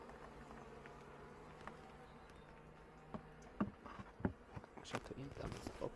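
Honeybees at the hive feed on sugar candy, making a faint, steady buzzing hum with small ticks and taps that grow busier toward the end.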